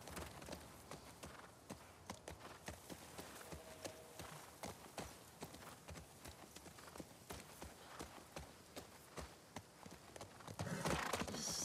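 Horse hooves clip-clopping steadily as the horse is ridden through terrain in the video game The Last of Us Part 2, a continuous rhythmic trot of fairly close hoof strikes over ambient game sound.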